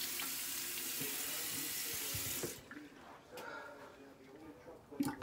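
Cold tap water runs steadily and loudly into a sink for a couple of seconds, then cuts off, leaving faint splashes and small handling sounds.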